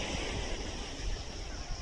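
Surf rolls onto the white-sand Pantai Batu Payung Mimiland beach between Mempawah and Singkawang, lined with casuarina trees, as a steady, close wash of waves mixed with wind buffeting, with no talking.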